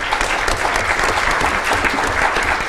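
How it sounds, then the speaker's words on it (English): Audience applause fills a council meeting chamber, a steady, dense clapping from many hands that holds at an even level throughout, with no talk over it. "If I could get a round of applause for them."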